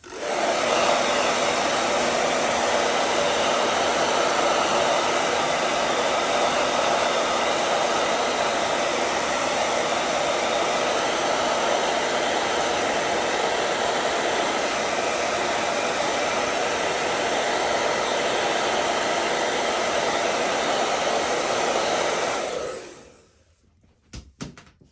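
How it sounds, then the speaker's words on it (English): A hair dryer blows steadily for about 23 seconds while drying matte medium onto tissue for a magazine image transfer, then cuts off abruptly, leaving near-silence with a couple of faint knocks. "I just bring in the hairdryer just to dry that matte medium onto the tissue"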